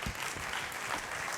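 An audience at an evening event applauds, a brief steady burst of clapping at moderate level with no talk.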